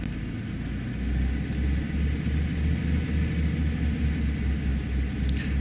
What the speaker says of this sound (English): we will go to the edge of however long this runway is, which is on that side, and then we'll take off